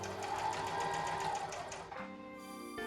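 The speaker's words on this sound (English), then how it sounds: "So I'm just going to be really careful of how I stitch all the edges." A sewing machine stitches along fabric edges with a steady, close, whirring mechanical hum and rapid needle pulses, then changes pitch and slows near the end. No one speaks.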